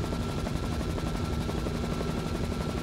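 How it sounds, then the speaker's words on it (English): A helicopter hovers overhead during an Australian cattle drive, its rotor producing a continuous rapid thudding chop under a steady engine roar. "he maintains an extremely difficult position with the helicopter in the air"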